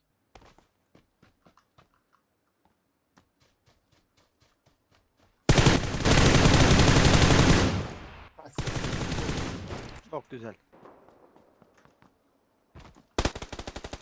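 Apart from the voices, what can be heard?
gunfire in a shooter video game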